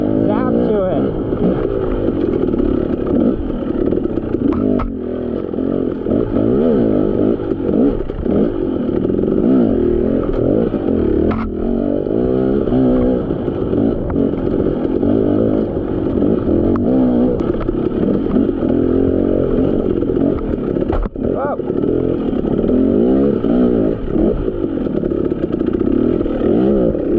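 KTM two-stroke dirt bike, 2020 300XCW or 250XCW, ridden on a trail, its engine buzzing and revving steadily for a long stretch with occasional throttle surges and rattles, close and continuous.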